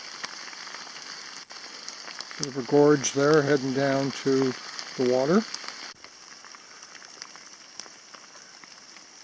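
Rain falls in earnest on a coastal hiking trail near Pollett's Cove, Cape Breton, making a steady soft hiss throughout while someone briefly speaks over it.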